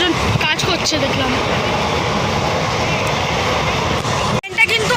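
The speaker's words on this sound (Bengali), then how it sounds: "এখন অনেক জোরে যাচ্ছে ট্রেনটা" The Maa Tara Express roars along at speed between Naihati and Rampurhat, a loud, continuous rushing rumble heard close from inside the train, broken by a brief gap near the end.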